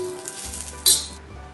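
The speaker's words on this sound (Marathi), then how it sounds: "शेंगदाणे भाजायला टाकलेत मी," Peanuts dry-roasting in a pan give a soft, steady crackle and hiss, with one brief bright metallic scrape of a spoon partway through.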